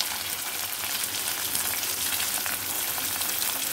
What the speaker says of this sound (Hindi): अब हम प्याज को हल्का लाल होने तक भूनते हैं।